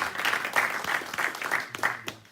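Audience at a political New Year's greetings event clapping, a dense patter of many hands that fades toward the end, moderately distant.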